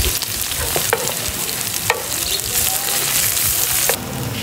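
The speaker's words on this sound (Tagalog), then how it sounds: "habang ginigisa natin yung bawang sibuyas mga pare ko" Garlic and onion sauté in a pan, a steady loud sizzle running throughout with a few sharp clacks of a utensil stirring against the metal, no voices.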